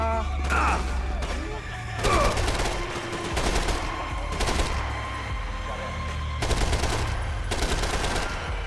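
Rapid automatic gunfire from the video game Max Payne 3 rattles out in repeated bursts, loud and punchy, with short pauses between volleys over a low rumbling game background.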